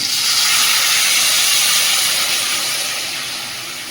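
Water poured into a hot pan of shrimp and flat beans hisses in a loud, steady steam sizzle that holds throughout and eases off slightly toward the end.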